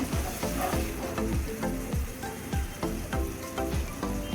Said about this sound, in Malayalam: എല്ലാം കൂടി നല്ലപോലെ ഒരു ലോ ഫ്ലെയിമിലിട്ട് വേണം ഇതൊന്ന് വഴറ്റി എടുക്കാൻ